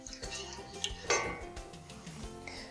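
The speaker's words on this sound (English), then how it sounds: "Go ahead and stir that together." A spoon stirs a raspberry and grape jam mixture in a pot, with scraping clinks against the pan and a brief louder knock partway through, close and unhurried.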